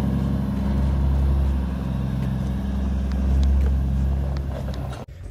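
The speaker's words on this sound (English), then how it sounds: "Here's the second truck coming in." A truck rolls in on a farm for loading, its steady low engine rumble close and continuous, swelling slightly before cutting off abruptly near the end.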